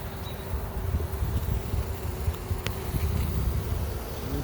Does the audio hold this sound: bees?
yes